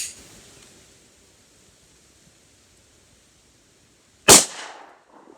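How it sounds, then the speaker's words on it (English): One sharp, loud pistol shot from a Glock 20 firing a 10mm 200 grain Federal HST round into pork ribs, a sudden crack after several seconds of quiet outdoor hiss, with a brief decaying echo. "We're going to shoot it right in the middle through the ribs."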